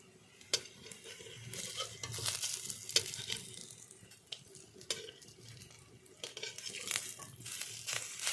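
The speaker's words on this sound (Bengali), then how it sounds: "এইভাবে সরষের তেল মাখিয়ে বড়াগুলো ভাজবে" Khesari lentil fritters fry in mustard oil in a kadai, a soft steady sizzle broken by sharp utensil clinks and scraping as they are turned, close and fairly quiet.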